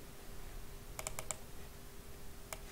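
A computer keyboard is typed on in a quiet room: a quick cluster of four crisp key clicks, then a single isolated click a moment later, faint over a low background hum.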